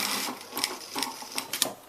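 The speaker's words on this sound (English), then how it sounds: "And while I'm here with the sewing machine, I just close this button up." A home sewing machine stitching along the fabric edge of a tea or coffee cosy, heard as a close mechanical whir in short bursts with rhythmic clacking.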